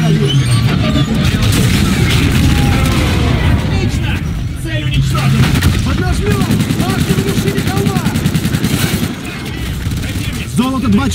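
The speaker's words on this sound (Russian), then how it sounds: "Пушки, пушки, пушки." Rapid, loud bursts of gunfire and booming impacts crackle continuously in a chaotic battle in the video game Call of Duty: Infinite Warfare, with voices shouting underneath.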